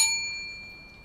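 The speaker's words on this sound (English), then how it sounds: "Ring the notification bell." A single bright ding, like a notification bell chime, struck once and ringing out in a fading metallic tone, close and clear with no voices.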